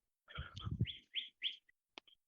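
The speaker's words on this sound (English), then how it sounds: "I just hear a bird tweet?" A bird gives a short burst of chirps: a rough chattering note and then three clear whistled tweets, close and fairly faint, followed by a few small clicks, with no talking.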